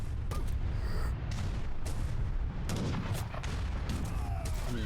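Cannon and artillery fire from the video game Age of Empires III, a dense, continuous battle barrage of overlapping booms and gunshot-like cracks, loud and sustained throughout with no pauses.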